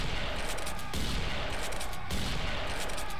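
Sustained rapid gunfire from the first-person shooter Serious Sam 3: BFE in a Cairo level, a dense, continuous volley of loud shots with brief dips in rhythm throughout.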